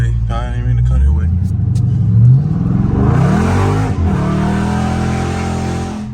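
A Dodge Scat Pack car revs hard and spins its tires on a neighborhood street, a loud sustained engine roar rising in pitch with tire noise, close by and under excited talk.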